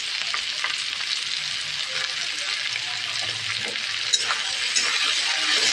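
Vegetables with salt and turmeric hiss and crackle in a hot pan while being stirred, a steady close sizzle with occasional clinks and scrapes, no talking.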